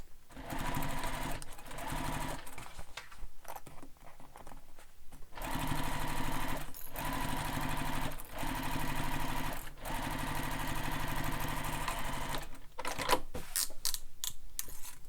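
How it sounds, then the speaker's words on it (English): Sewing machine running almost continuously while joining the pieces of a sling pack, a close, steady mechanical whir with brief slowdowns and a few quick stops near the end, no speech over it. "Sew this together using the seam allowance given in the pattern."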